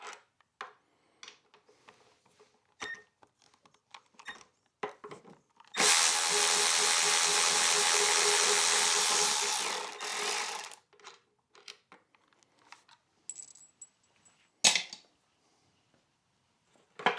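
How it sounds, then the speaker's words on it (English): A power driver with a Torx 40 bit removes the lower fuel tank bracket bolts on a BMW R1300 GS motorcycle, giving one steady, loud whirring burst of about five seconds between scattered clicks and handling noises. "using a Torx 40, we're going to remove the lower tank bracket"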